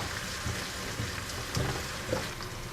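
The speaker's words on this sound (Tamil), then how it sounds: "இப்போ வெங்காயம் கொஞ்சம் வணங்கட்டும்" Chopped onions frying in a pan for fish curry, a soft continuous sizzle with faint crackles and occasional stirring bumps, quiet and close.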